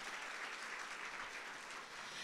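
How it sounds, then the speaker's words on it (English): Faint audience applause at a marketing seminar event, a steady wash of many hands clapping at a distance throughout. "Give them a big round of applause."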